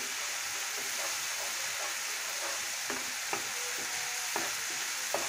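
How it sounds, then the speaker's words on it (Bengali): Ginger spice paste frying in oil makes a steady, moderate sizzle, with a spoon scraping and tapping the pan at a loose, regular pace. "এখন আমি মশলাটাকে একটু কষিয়ে নিব যতক্ষণ না আমার তেলটা উপরে ভেসে আসছে।"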